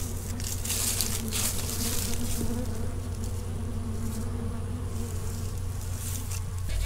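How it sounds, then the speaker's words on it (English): A dense, continuous buzz of many bees hums close by, steady and unbroken, with small rustles mixed in. "these bees are everywhere"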